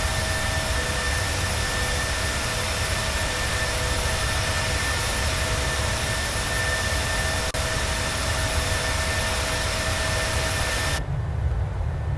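Jet engines of a PMDG Boeing 737-600 in a flight simulator roar steadily during the climb after takeoff, a loud constant broadband rush with a faint tonal whine, ending abruptly.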